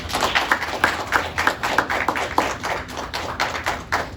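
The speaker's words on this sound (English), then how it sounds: "Another round of applause for Christopher." A small group claps for about four seconds, individual claps fairly distinct and rhythmic, moderately loud with no talking.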